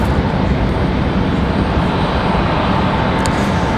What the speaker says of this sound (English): Looks like we got a Southwest coming in from Fort Lauderdale